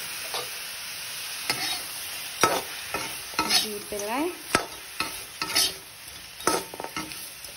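Boiled pork fries on a low flame in a pan and is stirred, producing a soft steady sizzle broken by repeated scraping strokes of the spatula, with a brief spoken phrase partway through.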